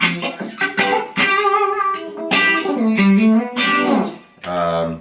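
An electric guitar through a vibe pedal plays a handful of plucked chords with a swirling, wavering modulation effect, each chord ringing out before the next.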